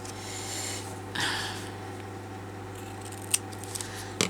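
Scissors snip through paper while a journal page is trimmed, one soft cut near the start, then a few sharp faint clicks toward the end over a steady low hum.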